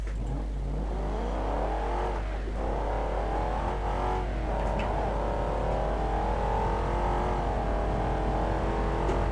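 A car in the BeamNG.drive driving game revs hard with the throttle held down, a loud, steady engine drone whose pitch wavers up and down for several seconds.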